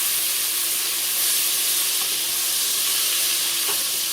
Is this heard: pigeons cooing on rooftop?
no